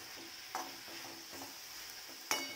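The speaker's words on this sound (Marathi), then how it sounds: "तर ही आपली तांदूळची भाजी तेलात चांगली परतून झालेली आहे" A rice and vegetable dish is stirred and fried in oil in a pan: a faint, soft sizzle with a few light scraping clinks from the spoon against the cookware.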